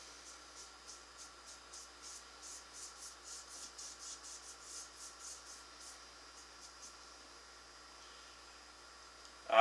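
Cloth or rag rubs Varathane dark walnut stain onto a wooden wall-mount piece in soft, rhythmic strokes, faint and close, ending with a brief louder knock.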